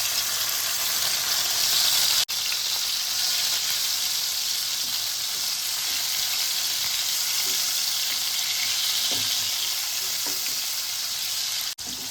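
A loud, steady sizzle of spices and chopped tomatoes frying in hot oil runs throughout, with faint pops and a couple of brief clicks, and no talking.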